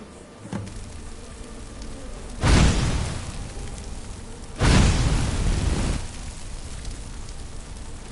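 Fire magic spell cast in a video game, two loud whooshing roars of flame about two seconds apart, each swelling suddenly then trailing off over a quiet ambient background.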